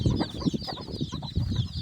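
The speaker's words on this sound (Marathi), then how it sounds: "हा कोंबडा हिला मारायला येतो सर्वच कोंबडींना मारतो पिल्लांना" Chickens cluck in short agitated bursts as a breeder rooster attacks a hen and her chicks, several close clucks with higher cheeping chick calls running over them.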